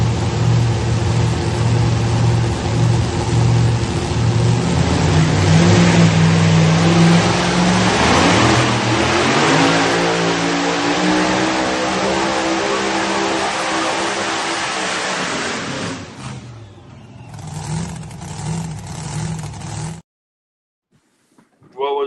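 A pulling vehicle's engine roars loud and close at high revs on a sand track, sustained and rising in pitch before easing off and cutting out near the end, with people talking over it.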